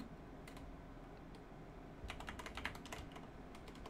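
Someone types on a computer keyboard in quiet, sparse taps that turn into a faster cluster of clicks near the end.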